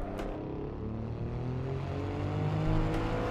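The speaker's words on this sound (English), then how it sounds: "Then left foot braking it into here, and then a quick heel toe down into second." A steady, loud engine drone from an Alfa Romeo Giulia Quadrifoglio on street tires at the Nordschleife, with a brief blip as it heel-toe downshifts into second under braking, engine harmonics holding throughout.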